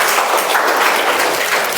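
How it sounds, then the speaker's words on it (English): An audience at a club meeting gives a short burst of loud, dense applause, a steady wash of many hands clapping. "Give a big round of applause please"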